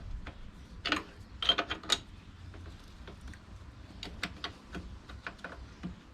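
Small ratcheting and metallic clicks from tightening a snail cam chain adjuster on a Honda XR200R dirt bike, several close, irregular ticks and taps spread through a quiet workshop background.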